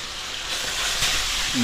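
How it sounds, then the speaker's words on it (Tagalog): Fish frying in a hot pan, a steady broadband sizzle and hiss that holds loud and even throughout, close by, with no voice over it. "lagay na natin yung isda. Dapat mainit para hindi kumapit sa kawali."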